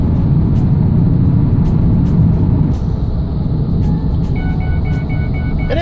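A Ford Escape with a 2.3 Duratec engine and a used cylinder head pulls along a road, with loud in-cabin engine and road roar, a steady drone with faint clicks and a short tone pattern near the end.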